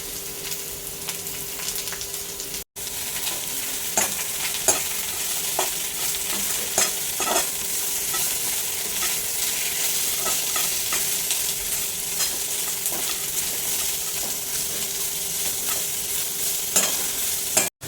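Onions and curry leaves sautéing in a pan for Kerala-style chicken perattu, a steady oily sizzle with repeated sharp scrapes and stirs of a spoon against the pan, no voices.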